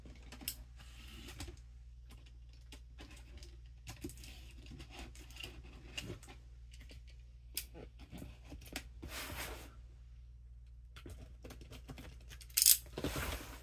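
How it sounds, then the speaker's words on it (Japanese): A boxed S.H. MonsterArts Godzilla 1989 action figure, a 2024 Comic-Con exclusive glowing version, being unpacked close up: crinkling plastic, rustling, and light taps of cardboard and blister packaging in uneven bursts, ending with a louder crackle. "こちらの方開封していきたいと思います。"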